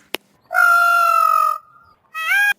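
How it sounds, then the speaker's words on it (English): A peacock gives loud, drawn-out nasal calls: one long wailing note of about a second, a brief pause, then a second rising cry, close by and alone. "Peacock."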